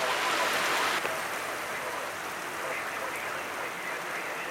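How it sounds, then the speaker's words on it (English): Rain pours down during a January windstorm in Tacoma, Washington, a continuous close broadband hiss of drops and gusting air that stays loud and even throughout. "There's some rain."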